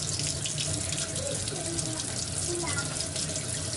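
A tap runs steadily with lukewarm water splashing into a sink, a constant hiss throughout.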